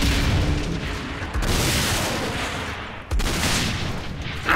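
Rocket explosions and gunfire erupt in Saints Row IV co-op play, with two heavy booming blasts over continuous rapid shooting and rumbling.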